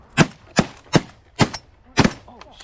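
Shotguns fire at Canada geese during a honker hunt, five sharp, loud blasts in quick irregular succession, close by, with geese honking faintly near the end.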